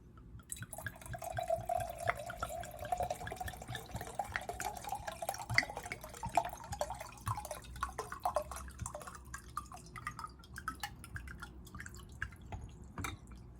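Wine trickles into a glass until it is full to the brim, a soft steady pour with drips, close and quiet, then isolated drops and faint clinks.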